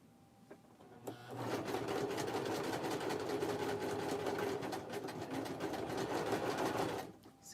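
Sewing machine stitching coffin-shaped bags, running in one steady continuous burst of rapid mechanical whirring and needle clatter for several seconds after a brief quiet start, close and with no voices.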